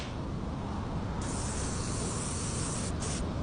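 Condenser cleaner sprays in one continuous close hiss onto a car's air-conditioning condenser, steady and loud with a brief break near the end.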